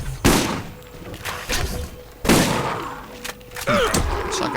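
Heavy shotgun blasts boom in the video game Borderlands, two loud, close shots about two seconds apart, each followed by thuds and rattling impacts, with no talking.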